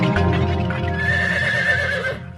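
A tall dark horse neighs loudly and close by, one long whinny with a rising, shaking tone that fades out at the end, with faint hoof clatter at the start.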